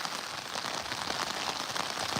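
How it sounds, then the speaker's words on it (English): Steady rain falling on a street in Los Angeles after days of wet weather, a dense even patter of drops on hard surfaces, continuous and fairly close with no voices. "It's been raining a couple days."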